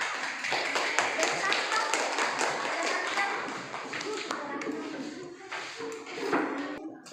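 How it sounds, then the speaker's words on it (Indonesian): Children in a classroom clap together, a patter of many hands at moderate distance with scattered taps and shuffles, while voices talk faintly underneath. "Tepuk tangan untuk kelompok kelinci."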